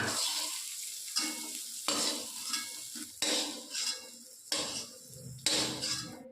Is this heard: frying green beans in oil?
yes